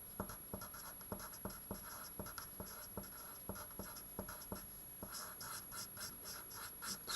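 A pen or pencil scratches an equation onto paper by hand, with quiet, rhythmic short strokes and taps in quick succession, close and soft with no talking.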